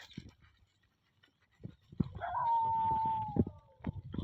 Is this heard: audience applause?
no